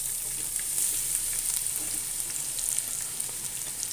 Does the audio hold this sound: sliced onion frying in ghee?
yes